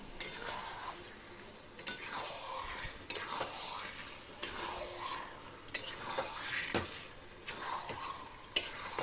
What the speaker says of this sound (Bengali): তো চিকেনটা দিয়ে ভালোভাবে এইভাবে কষিয়ে নেব